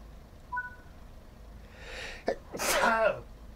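A single sharp human sneeze near the microphone, preceded by a brief inhale, over a quiet background hum from a train simulator.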